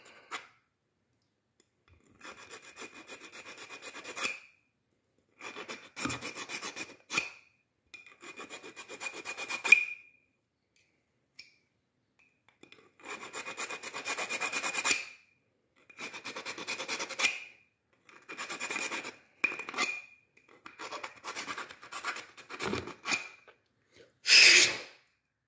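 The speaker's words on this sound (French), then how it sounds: "n'avancez pas trop loin la lime pour pas abîmer les tuyaux plastiques" A hand file rasps against the plastic tube of a homemade dart blaster in a series of scraping stroke bursts with short pauses between them, close and crisp.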